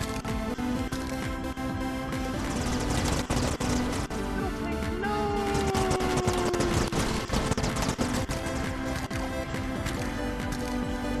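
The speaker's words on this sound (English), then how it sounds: "There we go, fight with explosions!" Dense bursts of booming explosions and rapid gunfire crackle continuously, loud and chaotic, with short rising tones cutting through the din, in a video game battle involving small tanks.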